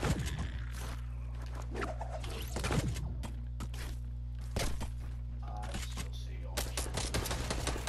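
Gunfire in the Fortnite video game, sharp shots and short rapid bursts crackling irregularly over a steady low hum, with faint scattered game sounds between them.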